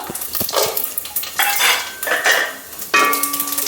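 Cumin seeds crackle and sizzle in a hot pan, a close, light frying hiss with a few bright metallic clinks of a spoon stirring against the pan.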